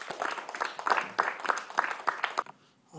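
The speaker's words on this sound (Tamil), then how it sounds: "அவர்களுக்கும் கைத்தட்டல் வாழ்த்துக்கள்." Studio audience applause for contestants on a Tamil children's TV show, a steady wash of clapping lasting over two seconds before dropping away to near silence.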